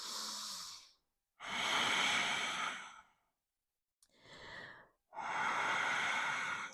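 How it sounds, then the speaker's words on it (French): Slow, deep breaths taken while holding a yoga pose during a guided autumn grounding session, long airy exhales and inhales close to the microphone, separated by brief silences. "Continuez ici à respirer."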